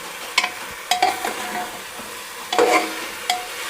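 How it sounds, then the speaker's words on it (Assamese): Chicken biryani masala stirred and fried in a pan over a low flame, with intermittent scraping stirs over a soft, steady sizzle, close and moderately loud. "মোটামুটি এইটো কম ফ্লেমত ফ্ৰাই কৰি আছোঁ"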